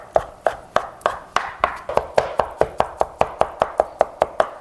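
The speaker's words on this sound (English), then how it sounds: "We're also gonna add the garlic in here and we're gonna chop that up too." A knife chops garlic rapidly on a cutting board, around twenty crisp, evenly spaced knocks that speed up slightly, close by with no voices.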